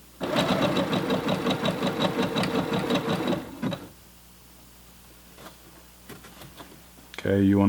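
A home sewing machine stitches elastic onto a skirt in a rapid, steady mechanical whirr for about three and a half seconds. It stops, a few soft handling clicks follow, and the machine starts again at the end.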